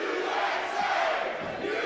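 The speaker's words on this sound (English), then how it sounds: "Well, we know what the audience has to say." Wrestling arena audience shouting and roaring together, a loud dense crowd din held steady throughout with no talk over it.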